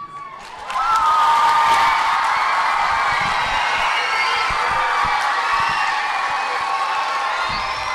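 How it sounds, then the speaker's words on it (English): A school audience bursts into loud, sustained applause and cheering with whoops for the 2015-16 middle school Teacher of the Year, a dense crowd roar that swells after the first second and holds steady to the end. "Give another round of applause, our 2015-16 Teacher of the Year."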